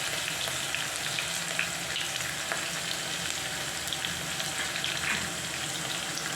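Spices sizzle and crackle steadily in hot oil in a pan as homemade apple pickle is prepared, a close continuous frying hiss with small pops.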